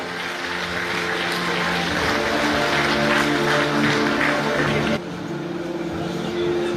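An audience applauds at a school ceremony. Steady, dense clapping fills the room, with a constant low hum beneath it, and it continues loudly throughout.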